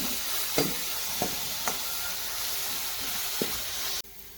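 Onion, garlic and green chillies frying in oil for a Gujarati stuffed eggplant curry, a steady close sizzle with a few soft stirring clicks, cutting off abruptly near the end.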